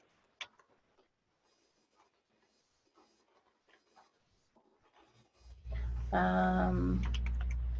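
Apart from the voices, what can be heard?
typing on a computer keyboard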